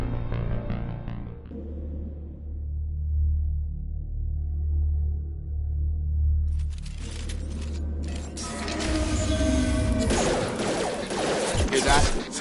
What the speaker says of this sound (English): sounds like Fenris mechs.